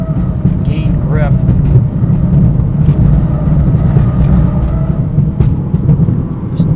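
A 2019 Toyota Corolla XSE Hatchback with a 6-speed manual taking a corner, heard from inside the cabin as a steady, loud low engine and road drone with tire rumble throughout.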